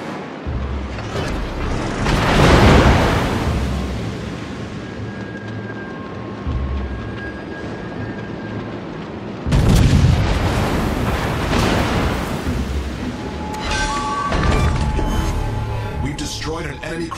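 Heavy naval gunfire and explosions boom from World of Warships battle, with two big salvos and rolling blasts over continuous combat noise, mixed with voice lines.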